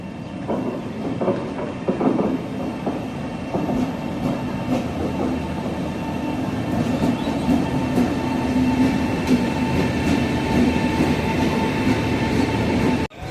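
The Trichy–Tambaram Intercity Express rolls along the tracks nearby, with a steady rumble, rhythmic clicks of wheels over rail joints, and faint metallic squeals.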